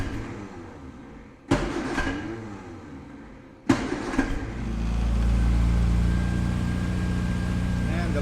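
An Austin-Healey Bugeye engine, newly fitted with a Dynamator, catches after a couple of sharp clunks and settles into a steady, fairly close idle, while people talk over it.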